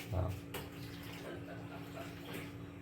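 Water poured into a bowl of maida flour and mixed, a soft, faint trickling splash at the start followed by low, quiet rustling over a steady background hum.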